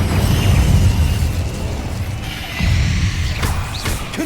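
Incendio fire spell cast in the video game Hogwarts Legacy, a loud rumbling whoosh of flame with a low booming swell near the start and another around the midpoint, plus crackling bursts toward the end.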